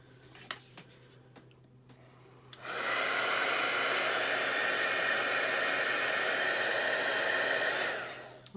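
A heat tool blows hot air over foundry wax on die cuts, a steady loud whooshing roar that starts abruptly after a quiet moment, holds evenly for several seconds, then cuts off.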